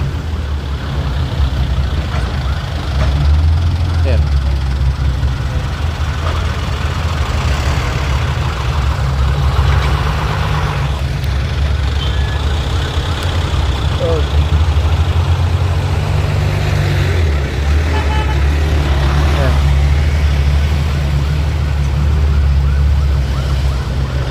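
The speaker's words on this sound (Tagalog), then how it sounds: "Grabe, heavy duty heavy duty, heavy, heavy talaga ang traffic." Heavy road traffic on a roadway in Lupi, Camarines Sur, a loud, continuous low rumble of idling and creeping engines close by, with a siren-like tone drifting through the steady drone.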